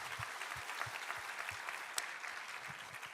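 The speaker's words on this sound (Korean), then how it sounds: "우리 하나님께 감사와 영광의 박수 올려드리겠습니다." A church congregation claps together after a sermon, a fairly soft, even wash of applause with a few louder individual claps, lasting about three seconds.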